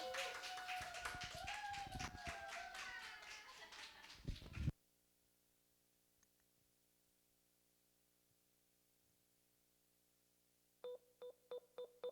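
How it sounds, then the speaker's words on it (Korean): Congregation clapping to welcome and encourage children coming up to sing at a church service, a dense burst of hand claps for about five seconds, then near silence, and a few sharp claps near the end. "힘찬 격려의 박수 부탁합니다."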